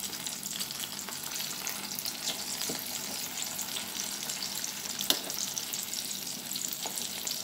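Green plantains fry steadily in oil in a pot, a dense, even sizzle and crackle running throughout at moderate level, with one brief sharper pop near the end.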